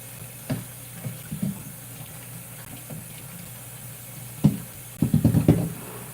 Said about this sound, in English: when I wash my fruit, I like to use cold water.